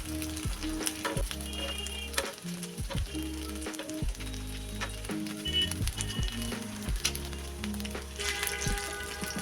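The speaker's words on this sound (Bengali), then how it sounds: "এইভাবে সব দিকটা সুন্দর করে ভেজে নেব।" Chicken sashlik kabab sticks fry in hot oil on a tawa, giving a steady, close sizzle with bursts of spitting and crackle as the skewers are turned, with no talking.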